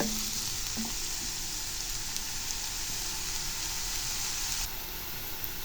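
Onions sizzle steadily in a hot pan for a potato and egg gravy, with a continuous dense crackle and occasional stirring scrapes, close and alone.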